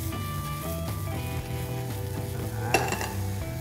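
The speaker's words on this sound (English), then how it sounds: "And now let's stir fry the bean sprouts" Bean sprouts with spring onion greens and light soy sauce stir-fry in a pan, a close, even sizzle with light stirring sounds and one sharper clink of utensil on metal.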